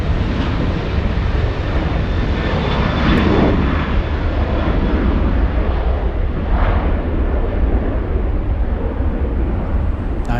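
Alaska Airlines flight 1607, an airliner bound for San Francisco, roars steadily as it departs LAX, a loud, continuous jet engine rumble with broad wash that swells and shifts as the plane passes.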